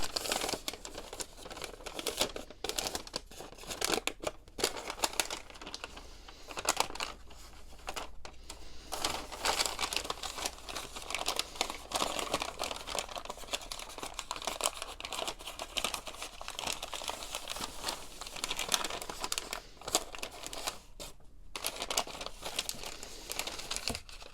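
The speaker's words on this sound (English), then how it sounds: "fold this in to the crease line I just made" A paper lunch bag is folded and creased by hand, producing continuous close crinkling, rustling and crackling paper sounds with sharp irregular snaps throughout.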